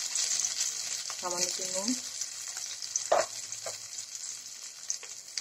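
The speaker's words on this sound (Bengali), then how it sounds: "আলুগুলি লাল লাল করে ভেজে নিচ্ছি" Boiled potatoes frying in hot oil, a soft steady sizzle with a few stirring knocks, while someone briefly speaks over it.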